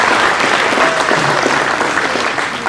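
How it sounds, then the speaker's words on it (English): Steady, dense applause from a room full of people at a school athletic hall of fame ceremony, sustained clapping at even loudness throughout. "let's give everybody a round of applause."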